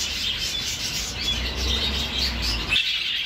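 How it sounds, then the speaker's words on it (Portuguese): Pair of red rosella parakeets gives high, thin chirps and tweets over a soft rustling background, the calls scattered and moderately close before the sound cuts off abruptly near the end. "Casal de rosela vermelha."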